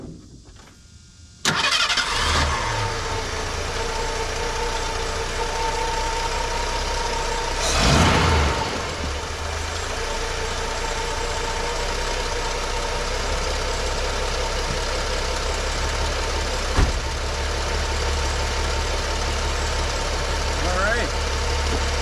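A 1981 Ford car engine cranks and catches, then settles into a steady, loud idle that runs on unbroken, with a brief surge partway through.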